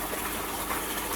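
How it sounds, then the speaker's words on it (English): Koi pond waterfall driven by a 20,000 gallon per hour pump, a steady full-band rush of falling water that stays constant and fairly close throughout, with no voices. "You may be able to hear it over the waterfall in the background."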